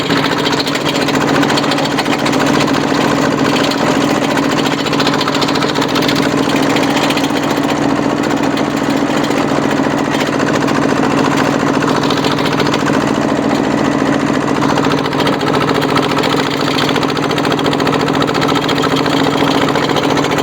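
A modified Thai farm tractor fitted with a rotary tiller runs steadily at close range, its loud droning engine hum joined by a rattling buzz from a hard-shaking belt, continuous and without talk.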